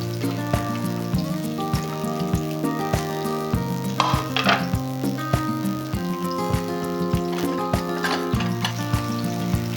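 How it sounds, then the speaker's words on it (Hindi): Onions frying in oil in a cooking pot for chana pulao, a crackling sizzle with frequent sharp spoon clicks and a steady background hum. "प्याज हम लाइट ब्राउन कर लेंगे।"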